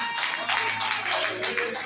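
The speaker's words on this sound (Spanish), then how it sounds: "Démosle un fuerte aplauso a Isaías, hermano." Applause for a pastor at a church service: dense, steady clapping from a congregation throughout, fairly close and continuous, with voices faintly mixed in.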